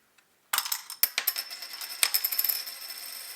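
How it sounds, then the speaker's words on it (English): Metal coins clatter into the pot of a LEGO Super Mario Piranha Plant set 71426, a quick close run of small bright clinks and rattles that starts abruptly and keeps tinkling as the coins settle. "You can hear the coins just dropping into the pot there."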